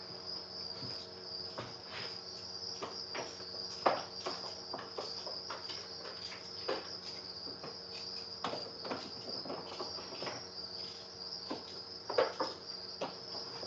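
Dense, steady chirping of crickets fills breeding bins holding newly hatched baby crickets, a constant high trill with scattered soft rustles and taps underneath.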